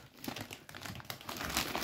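A plastic bag holding two kilograms of washed yellow Estonian potatoes is handled up close, giving quiet, irregular crinkling and rustling bursts.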